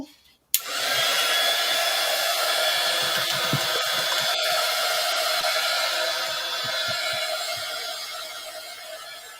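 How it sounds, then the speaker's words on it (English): A hair dryer clicks on and runs with a steady, loud, close-up whoosh that holds for several seconds, with no other sounds over it. "So don't mind me with my dryer"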